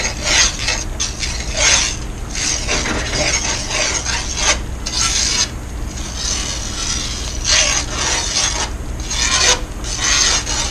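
Alfredo sauce is mixed until smooth and creamy, producing a close, continuous scraping and swishing of a utensil against the pan in uneven strokes, with no voices.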